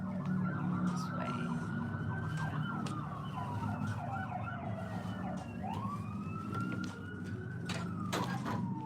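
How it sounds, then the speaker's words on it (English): Emergency vehicle sirens wail outside, rising and falling in long sweeping tones that overlap, at a moderate distance and fairly loud throughout. "I was trying to record my video, and darn sirens was going off."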